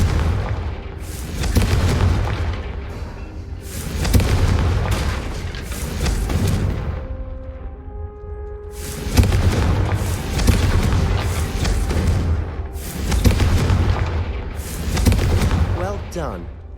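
Confringo fire spell explosions from the Hogwarts Legacy video game land as a run of loud booming blasts in repeated bursts, with brief quieter gaps and game voices between.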